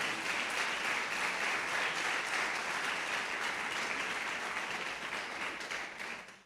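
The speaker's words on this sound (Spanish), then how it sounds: "¿Cuántos dan palmas a Cristo?" A church congregation claps and applauds together, a dense continuous wash of hand claps that holds steady and then fades out at the end.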